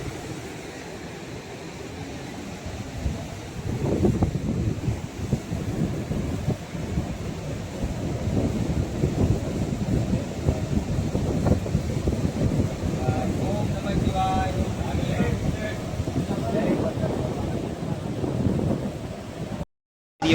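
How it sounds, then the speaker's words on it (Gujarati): Sea waves washing onto the shore near a seaside Shiva temple, a broad steady roar with wind buffeting the microphone, continuing without speech until a sudden cutoff at the end. "આ દરિયાનો નજારો છે"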